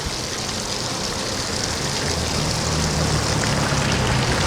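A fountain spouting gallons of water in Halifax, Nova Scotia, a steady dense rushing splash that holds constant throughout, close and loud with no pauses and no voices.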